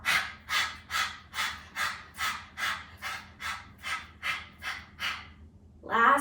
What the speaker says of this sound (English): Exhale, punch it out.